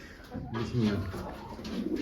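Low, soft cooing of pigeons over a murmur of background activity, fairly close and continuous.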